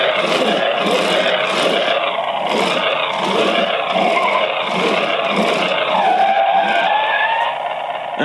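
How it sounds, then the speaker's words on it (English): A Bumblebee toy car pushed along plays electronic sound effects: a continuous engine roar with screeching tire skids and whooshes, loud and steady with rhythmic pulses throughout. "pushing the car along will cause it to emit some further sounds."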